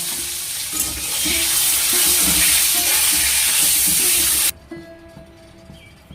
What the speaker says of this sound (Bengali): পটলটা এবার ভাজা হয়ে এসছে এবার আমি পটলটা তুলে নেবো